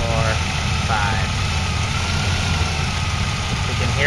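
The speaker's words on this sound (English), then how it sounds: "You can hear the idle adjust just a little bit" A 1999 Chevy S10 engine with hydroxy boosters idles steadily and close by, giving a constant low rumble with slight shifts as the idle adjusts.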